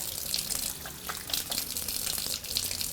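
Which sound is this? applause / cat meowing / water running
water running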